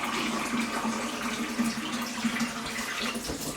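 Hot water pours steadily from a tap into a vessel for strawberry cider making, a continuous close rushing splash with no speech.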